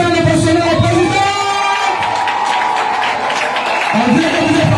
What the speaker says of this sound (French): On va ici et là maintenant dire bienvenue à la présidente en applaudissant